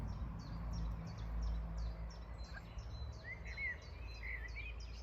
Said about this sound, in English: And you know how there's always lots of birdsong here?